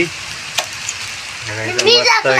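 Prawn vadas deep-fry in hot oil, giving a soft, steady bubbling hiss in the background, with a few faint clinks, before a voice starts talking over it.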